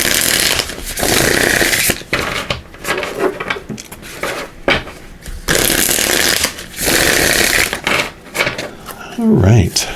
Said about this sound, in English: give these a shuffle, and see more information here